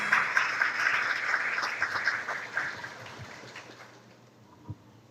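Audience applause for a guest speaker at a smart-cities meeting in western Pará, Brazil, a dense roomful of clapping that holds steady and then fades away within a few seconds.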